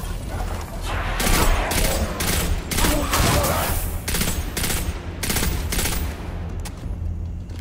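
Automatic weapon fire in the Destiny 2 video game, rapid bursts of loud close shots broken by short gaps, with mechanical clicks among them.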